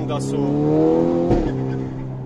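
A tuned VW Golf 6R with over 400 hp and a DSG gearbox holds a loud, steady engine drone, its revs climbing slightly before a single sharp exhaust pop cracks out midway. The note then settles back.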